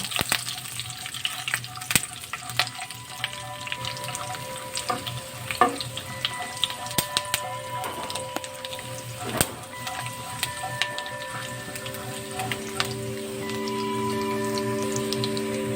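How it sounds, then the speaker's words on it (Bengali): Peanuts frying in hot oil in a pan while making Bengali-style fried khichuri, a steady sizzle and crackle with scattered clicks and clinks, fairly close and continuous, with no one talking. "বাদামগুলো সুন্দরভাবে ভেজে নেব।"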